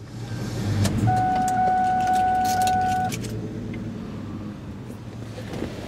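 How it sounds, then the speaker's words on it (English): A 2003 Ford Mustang Mach 1 idles with a loud, steady low rumble and then shuts off, the engine dropping away to a quieter hum, with a high electronic chime and a key jingle over it. "We'll go ahead and shut her down."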